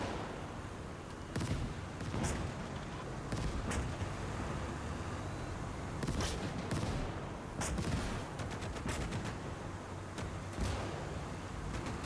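Dense battlefield gunfire from the WWII game Gates of Hell, with tanks charging: continuous crackle of rifle and machine-gun fusillades punctuated by repeated heavy artillery and cannon booms, loud and sustained throughout with no speech.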